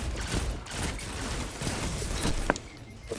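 Exotic shotgun-like arm cannon firing in Destiny 2, dense crackling bursts and blasts packed over a few seconds amid busy game noise, with one sharp report standing out near the end.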